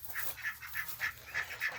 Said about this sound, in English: But here's the ducks.